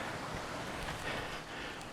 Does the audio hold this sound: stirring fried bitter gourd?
no